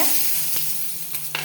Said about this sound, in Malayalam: കറി നമ്മൾ കടുക് വറുത്ത് അങ്ങോട്ട് ഒഴിച്ചിരിക്കുകയാണ്